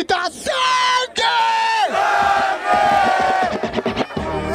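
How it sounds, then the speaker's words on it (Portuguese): A rap battle crowd at Batalha da Aldeia in Barueri shouts "sangue" together, a loud sustained mass yell in several waves that breaks into scattered cheering. "Quem quer tá saindo grita sangue!"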